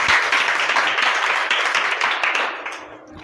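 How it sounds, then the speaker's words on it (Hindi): Classroom of children clapping for a student who read a story aloud, a dense, loud burst of applause that slowly thins and fades toward the end. "तालियां हो जाए इनके लिए।"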